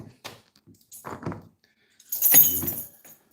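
Loose metal keys jangle and clink in short bursts, with a brief rattle early on and a louder, longer clatter near the end, close by and alone, with quiet gaps between.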